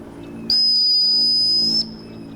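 A dog training whistle is blown once during a retriever casting drill, giving a single steady, piercing tone that holds for over a second and then cuts off, loud and close with no talk.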